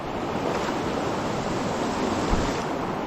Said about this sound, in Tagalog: Baha na po din sa aming lugar ay. Bahain na.